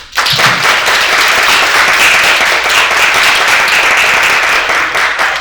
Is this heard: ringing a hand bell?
no